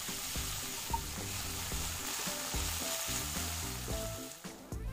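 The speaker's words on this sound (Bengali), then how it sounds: "এবার আলুগুলোকে লাল করে ভেজে নিচ্ছি।" Large potato pieces with turmeric and salt frying in oil in a pan, a continuous loud sizzle with occasional light stirring clatter, no voices.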